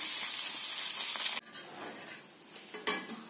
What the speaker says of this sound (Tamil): சாதம் தாளிச்சு வச்சு அவ்வளோதான் கொட்டி கிளறிடலாம்